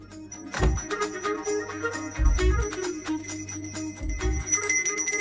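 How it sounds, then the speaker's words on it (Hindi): A bell rings by itself in a Hindi-dubbed South Indian horror comedy film, with several ringing strikes and low thuds against a tonal, musical background. "मुझे जल्दी आओ बोल के यहाँ पर घंटी बजा रहे हो।"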